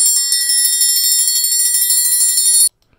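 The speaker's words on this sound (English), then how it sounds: "You can also strike the triangle back and forth at the top to get a roll." Metal triangle played as a roll, struck rapidly back and forth at the top corner, giving a steady shimmering ring of fast even strikes for over two seconds, then cut off into silence; close and loud, no talk.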